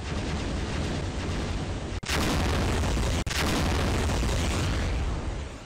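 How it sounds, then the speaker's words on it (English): A loud, sustained blast roars from a Minecraft Pocket Edition knockoff game on iOS, cutting out twice briefly before the rumbling noise resumes and fades slightly at the end. "That is so loud! that is so, so loud. Right, It's kind of like an explosion."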